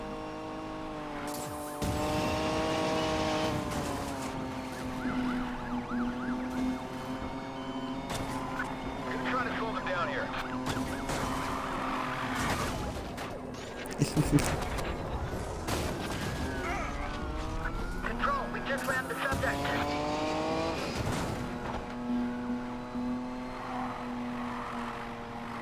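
Car drifting in Need for Speed Payback, a sustained engine drone with whining tire squeal and a brief crunching impact midway, heard beneath continuous talking throughout.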